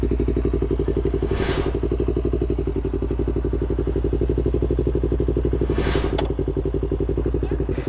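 A Yamaha YZF-R25 manual-clutch motorcycle circling a roundabout, its engine a steady close rhythmic thrum with rapid pulsing, joined by a couple of brief whooshing passes and light clatter.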